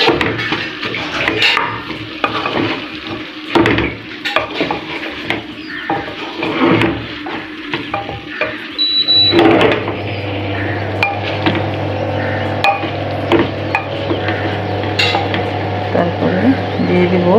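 Beef curry with potatoes is stirred and sautéed in a pot, with repeated clattering and scraping of a utensil against the metal, loud and close, over a low steady cooking hiss; no one speaks.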